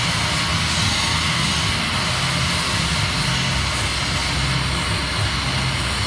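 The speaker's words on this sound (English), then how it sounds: "he's going to put power through that wire" Submerged arc welding with power run through the wire under a puddle of sand-like flux gives a loud, steady, broadband roar with a low rumble, continuous and unbroken throughout.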